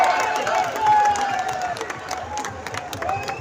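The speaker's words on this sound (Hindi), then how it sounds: "ताली बजाओ तो देखता है तुम लोग" A crowd at a village jatra fair in Mudma, Jharkhand, claps and cheers, applause rising then thinning into scattered claps, with a voice calling out over it early on.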